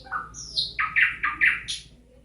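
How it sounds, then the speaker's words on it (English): A recorded nightingale sings a quick series of bright, squawking chirped phrases, clear and close, with no voices. "So that's the sound of a nightingale."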